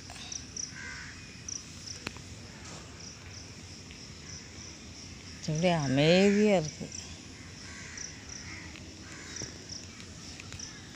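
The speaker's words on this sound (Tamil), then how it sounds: "இங்கே பாருங்கள், காக்காயெல்லாம் சுற்றிக்கிட்டு இருக்கு." Several crows caw in a short, loud burst midway through an early morning walk, over a constant background of chirping crickets; a few quiet words are spoken.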